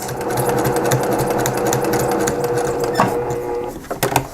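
A sewing machine stitches a small patchwork tote bag made from 5-inch squares, its rapid, even needle clatter close and steady before the pulses spread out as it slows near the end.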